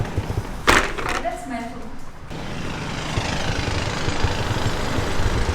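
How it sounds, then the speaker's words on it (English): Construction work next to an apartment in a gated community in Hyderabad: a thud, then a loud, steady roar of machinery noise that floods in and continues without a break. "There is some construction going on there."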